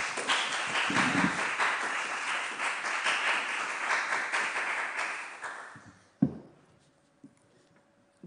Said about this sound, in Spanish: al menos los organizadores estaremos apoyando con nuestros aplausos a todos los participantes